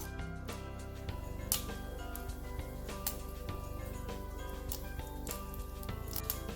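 Mustard seeds crackle and pop in hot coconut oil in a pan, a dense run of sharp, irregular sputters close by with no talk.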